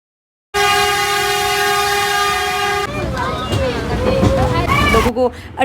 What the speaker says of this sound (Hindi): बार बार रास्ते में ये हॉर्न बजता था